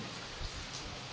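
Steady rain falls outdoors, a dense even hiss of drops hitting surfaces with no voices.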